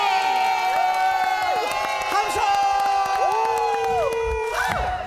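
A loud Korean TV studio audience shouts and cheers together, sustained whoops and yells over music, filling the room continuously.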